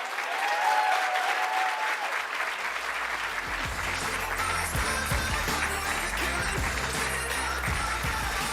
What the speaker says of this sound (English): Applause for our last winner of the night, Dr. Sophia.